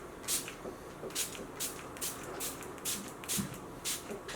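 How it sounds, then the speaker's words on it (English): Mist and Fix setting spray hisses onto a face in about nine short, evenly spaced pumps, each a close, crisp burst of fine mist with quiet pauses between. "I'm just gonna spray my face with my Mist and Fix."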